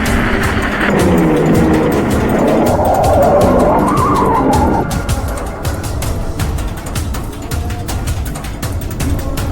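Car tires spin and skid in place with a harsh, sustained squeal and revving engine for about five seconds, then settle into rougher, crackling wheel-spin noise.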